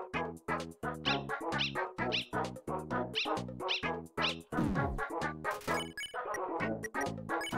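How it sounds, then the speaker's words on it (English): A small cartoon dog in an Undertale fan game barks in a quick, steady series of sharp yips, about a dozen in a row, with a brief crash in the middle and the yapping resuming afterward. "Pet the dog, of course."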